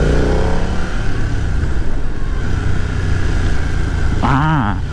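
A 2020 BMW F900R Sport Style roadster motorcycle engine runs steadily under way, its continuous mid-range drone close and loud, with a brief voice or rising tonal sweep near the end.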